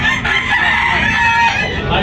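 Loud, close rooster crowing in Tabunok, Talisay, Cebu, several birds overlapping in drawn-out calls with some clucking mixed in.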